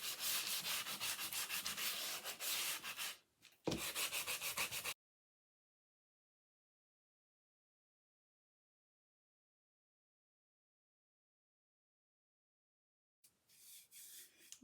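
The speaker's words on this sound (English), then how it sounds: "I'm going to take my sanding block and I am going to distress the edges." A sanding block rubs along the edges of a wooden ghost decoration, fast rhythmic scraping strokes close by. Then a long silence, and a few brief rubs return near the end.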